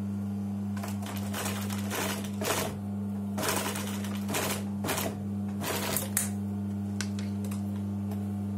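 Sewing machine stitching trouser pocket fabric, rapid mechanical clatter in several bursts over a steady motor hum, close and clear, with no talk.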